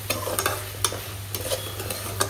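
Water spinach greens cooking in a pan, with close spatula stirring strokes in an uneven rhythm over a low, constant sizzle and a steady background hum.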